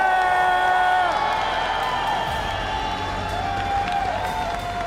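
A large arena crowd at the Clash Royale World Finals esports event roars and cheers loudly and continuously, with whoops and shouts rising over a dense wash of applause, while an amplified voice rings through the hall.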